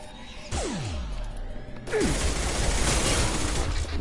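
Gunfire and weapon blasts in the Mass Effect 2 video game, a loud burst with a descending whoosh, then a heavier, denser blast of sustained firing filling the second half.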